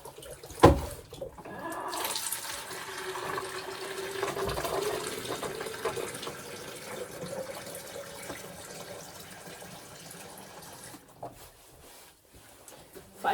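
Five litres of hot water gush steadily into a bucket for several seconds after a sharp knock, the rushing sound slowly easing before stopping.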